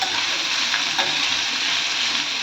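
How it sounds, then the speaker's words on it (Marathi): Carrots, French beans and cabbage stir-fried in oil over a high gas flame for Hakka noodles, a dense continuous hiss and sizzle close by with faint stirring, no talking. "गॅसची फ्लेम हाय करायची आहे आणि तेलामध्ये भाज्या छान परतायच्या आहेत"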